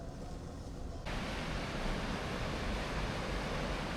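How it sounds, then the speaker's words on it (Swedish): Rapids on a small waterfall rush in the distance as a steady broadband hiss that grows noticeably fuller and louder after the first second, then holds constant. "Det är ett vattenfall där borta eller vad man kallar det. Ett mindre, men det är fors, eller en fors."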